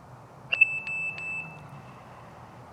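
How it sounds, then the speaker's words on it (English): Deterrent alarm from a Vivint Outdoor Camera Pro 3 outdoor security camera, a sharp electronic beep followed by a sustained high alarm tone that fades, fairly close and clear, with no talking. "it's then going to sound the deter sound"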